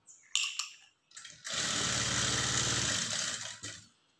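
A sewing machine runs steadily for about two seconds while stitching the lining of a blouse, with brief handling clicks before and a short burst after.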